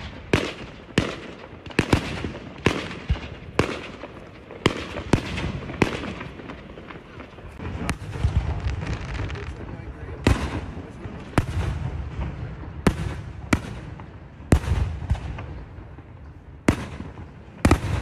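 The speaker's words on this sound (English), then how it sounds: "Best fireworks show." Fireworks display seen from a hotel setting, with a rapid series of sharp bursts and booming reports, some clustered, others spaced out, loud and fairly close, and a few voices in between.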